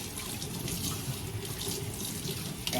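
Tap water runs steadily into a kitchen sink while raw chicken is rinsed, a continuous close splashing hiss with small irregular bursts as the meat is handled under the stream.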